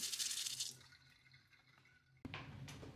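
Rice is rinsed in water in a home kitchen, with a soft hiss of running water, then quiet dripping and light sloshing, and a sharp splash near the end.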